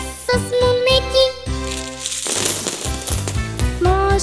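Coins jingle and drop with bright metallic clinks and tinkles over musical accompaniment in a children's theatre song about money, the clatter thickening midway.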